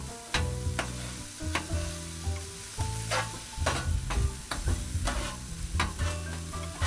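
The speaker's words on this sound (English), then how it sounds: "with this grill, at this point, they are sizzling together" Chili dog meat and franks sizzle together on a 22-inch Blackstone griddle, a steady frying hiss broken by repeated scraping and stirring strokes of a spatula, close and fairly loud with no talking.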